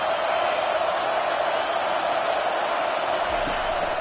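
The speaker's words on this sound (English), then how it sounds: "Listen to this crowd just shaking the girders of this place" Stadium crowd in a college football video game, a dense, steady roar of cheering spectators, loud and continuous throughout with no breaks.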